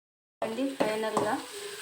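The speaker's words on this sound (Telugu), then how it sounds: "ఆకుకూరలు అన్నీ ఫ్రై బాగా అయిపోయిందండి. కర్రీ మొత్తం ఫ్రై అయిందండి." Mixed leafy greens curry frying and being stirred in a pan, a soft steady sizzle with a couple of scraping stir strokes, fairly quiet and close.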